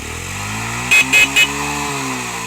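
A motorcycle engine idles steadily nearby with a deep, even rumble, interrupted midway by three quick horn beeps.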